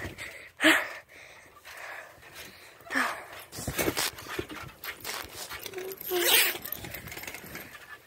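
A pet dog pants in quick, uneven bursts close by, mixed with rustling and shuffling sounds.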